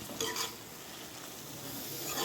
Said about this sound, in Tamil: வாழைப்பூ போட்டதும் இந்த மாதிரி ஒரு சின்னதாக ஒரு மிக்ஸ் பண்ணிக்கோங்க.